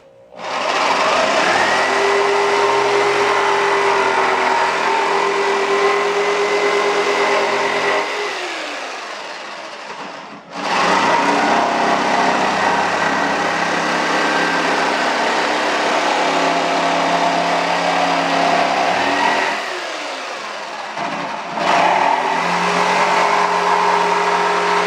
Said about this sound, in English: And I take my jigsaw and